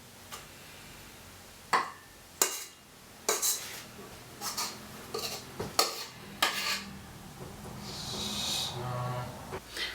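Cinnamon roll dough is worked in a bowl, with repeated sharp clinks and knocks of a utensil against the dish and softer scraping and stirring in between, close and fairly loud, with no voices.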